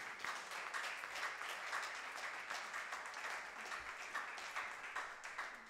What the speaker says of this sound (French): Applaudis bon Dieu pour ce soir